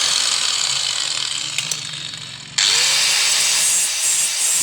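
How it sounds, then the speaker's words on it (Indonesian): An angle grinder grinding down the thin edge of a worn gear, a loud, close, continuous gritty rasp that eases briefly and then surges back harder, with no talking. "Kita sedikit gerinda supaya lebih tipis dan gear bisa masuk."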